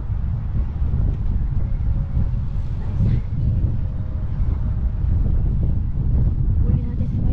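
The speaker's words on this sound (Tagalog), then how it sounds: "Ang lakas kasi ng hangin." Strong wind buffets the microphone while cycling on a winding mountain road, a loud, steady low roar throughout with a few faint voices underneath.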